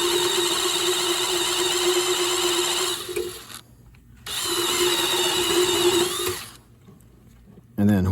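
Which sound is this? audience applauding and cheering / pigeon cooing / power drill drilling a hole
power drill drilling a hole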